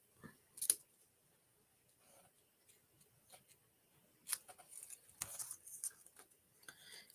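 Scissors trim ribbon during card-making in a quiet room, with a few sharp, faint snips and clicks spread out at irregular intervals.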